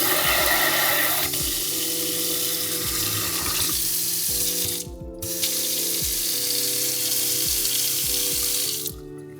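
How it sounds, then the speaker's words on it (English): Tap water pours at full flow into a small hotel bathroom sink at the EVEN Hotel Austin, a steady broadband rush with faint clunks, briefly cut off near the middle and again at the end. "when you turn on the water to full, it just slightly misses the edge of it"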